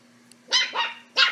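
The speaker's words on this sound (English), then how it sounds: "Oh, that's a puppy." Puppy barking in a home, two or three short, high yaps close by, with a brief pause between them.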